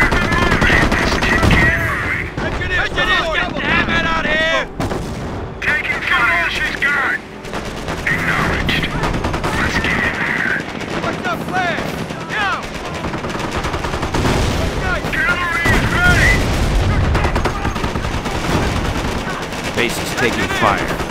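Gunfire and artillery in the Company of Heroes video game, continuous loud bursts of machine-gun and rifle fire with heavy booms, while soldier voices shout over the battle throughout.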